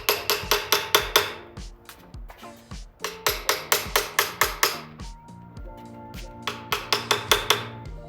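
A small 8-ounce hammer taps metal parts during a Chevrolet Stovebolt 235 six-cylinder engine teardown, giving close, sharp ringing strikes in quick bursts of steady blows with short pauses between runs.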